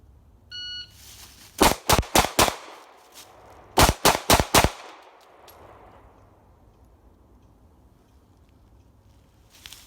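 Glock Gen 5 pistol fitted with an RMR red dot firing on a range: a short shot timer beep, then a fast string of four loud shots, a brief pause and four more, close with ringing decay.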